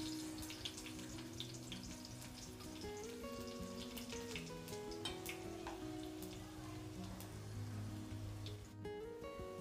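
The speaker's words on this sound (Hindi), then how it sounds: "अब इसमें हम ऑयल में डायरेक्ट डाल देंगे गार्लिक। गार्लिक को हम अच्छे से पकने देंगे।" Garlic frying directly in hot oil with dried red chillies for a dhaba-style sev tamatar curry, a steady continuous sizzle and crackle throughout, close and fairly even, with a faint rustle near the end.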